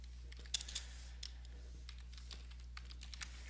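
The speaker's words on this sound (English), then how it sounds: "it would help if I could type" Typing on a computer keyboard: faint, quick irregular key clicks over a low steady electrical hum.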